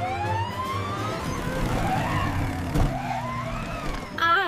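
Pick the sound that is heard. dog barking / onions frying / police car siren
police car siren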